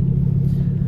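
Deep, steady engine rumble from a modified Ford Focus ST running a stage 3 map, a loud low drone heard from inside the car with no talk.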